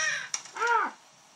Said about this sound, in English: Cool crow.